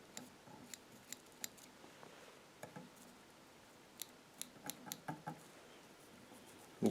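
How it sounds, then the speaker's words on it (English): Sharp, quiet snips of small scissors trimming fly-tying material on a crayfish fly, scattered at first and then clustering into a quick run of cuts, close and alone over a faint hiss. "I'm just going to take my scissors and just clean up that ramp"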